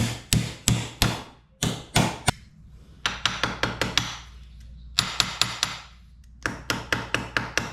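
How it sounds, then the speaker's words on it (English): Sharp metal hammer blows on a creased part from a 1984 Tomos Silver Bullet moped resting on the anvil face of a vise, struck in quick clustered rhythmic series with short pauses, loud and close. "I am going to attempt to get this little crease out just by sticking it on the anvil portion of the vise"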